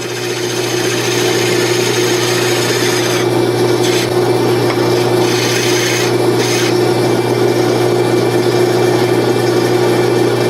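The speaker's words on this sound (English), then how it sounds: "See how nicely those carbides cut? Really get nice shavings off of it." A carbide tool shaves a wooden chess pawn spinning on a lathe, giving a loud, continuous scraping hiss over the motor's steady hum, with a few brief changes in the cutting texture.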